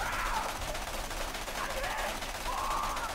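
Rapid, sustained automatic fire from a Scav assault rifle in the video game Borderlands: The Pre-Sequel, a dense unbroken rattle of shots with no pauses.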